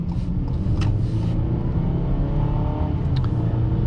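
A Ford Maverick XL 2.0 EcoBoost truck accelerates moderately, its engine droning with a steady, loud rumble from inside the cabin, the tone rising gradually.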